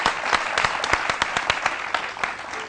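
An audience at a testimonial meeting gives a round of applause, with sharp, distinct claps ringing out close by at a lively, slightly uneven pace.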